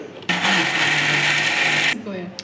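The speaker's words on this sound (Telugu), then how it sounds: "ఇంకొక కొంచెం అలా వేద్దాం మిక్సీకి" A mixer grinder coarsely blending eggplant-tomato chutney whirs loudly for about one and a half seconds, then cuts off abruptly, leaving quieter background sound.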